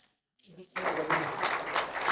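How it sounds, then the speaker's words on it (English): Applause from a seated audience at a higher education discussion program in Kathmandu swells suddenly after a brief quiet and continues as dense, even clapping. "Please give a round of applause."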